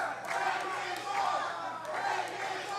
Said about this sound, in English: This crowd bloodthirsty saying, break his arm.